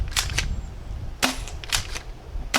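SBL 2.0 toy blaster firing outdoors: four sharp, bright pops spaced about half a second to a second apart, close and fairly loud over a steady breezy background.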